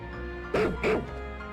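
Two short barks from a dog in Pokémon Legends: Z-A, close and fairly loud, spaced a fraction of a second apart over a steady game background hum.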